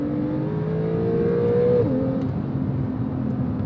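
A Porsche 911 with its sport exhaust open in Sport Plus mode revs up close, its engine note climbing before a quick gear shift drops the pitch into a steady drone, with no talking.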